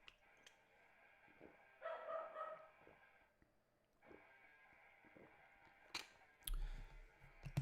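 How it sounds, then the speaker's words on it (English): Dogs barking in short bursts at a house, faint and somewhat distant, with a few clicks and small knocks between the barks. "my dogs are going crazy right now"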